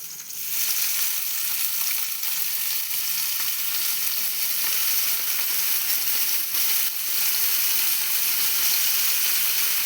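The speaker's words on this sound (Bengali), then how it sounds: "তেলটা আমার গরম হয়ে গেছে, ফ্রাই প্যানটা। তো আমি এর মধ্যে ঢেলে দিচ্ছি।" Food poured into a frying pan of hot oil erupts into a loud, dense sizzle that holds steady and close for nearly ten seconds, with faint scraping underneath.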